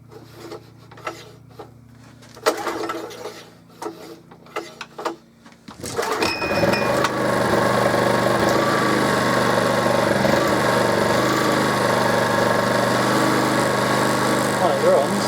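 Honda EX650 portable generator engine after a rebuild, cranking a few times with scraping, pulling sounds, then catching around six seconds and settling into a steady, loud running drone that continues to the end.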